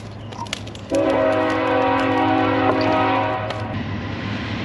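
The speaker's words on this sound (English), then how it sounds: "Your train coming, boys, girls, peoples." A loud, sustained train horn blares for about three seconds with a steady multi-tone chord, over constant rumbling background noise.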